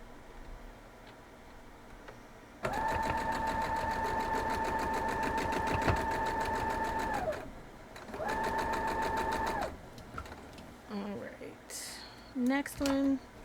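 A sewing machine runs in two steady bursts, loud and close, stitching four-patch quilt blocks together. A rapid mechanical whir is followed by a pause, a second shorter run, then some handling clicks. A voice talks at times.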